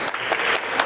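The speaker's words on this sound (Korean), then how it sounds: "오늘 강연해주신 우리 강병욱 실장님께 큰 박수 한번 부탁드립니다" A lecture audience claps in a short, loud burst with a few sharp individual claps standing out.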